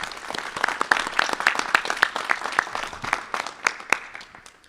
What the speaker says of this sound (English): Can we give her a round of applause real quick?